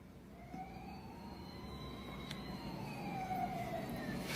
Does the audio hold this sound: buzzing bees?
no